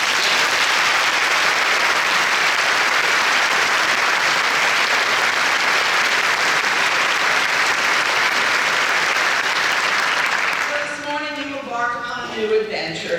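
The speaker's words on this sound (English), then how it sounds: "Could we have another round of applause to express our gratitude to our scholarship donors?" Sustained applause from a large audience at a medical school white coat ceremony fills the hall loudly and evenly for about ten seconds before fading as a speaker begins talking.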